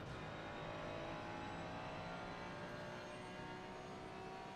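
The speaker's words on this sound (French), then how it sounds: "le bruit plus sourd de cette Ferrari avec le moteur V6 désormais pour la 287" A Ferrari GT3 race car with a V6 engine in Assetto Corsa Competizione at Brands Hatch, its deep, muffled engine drone holding a steady, sustained tone at low level, with no voices.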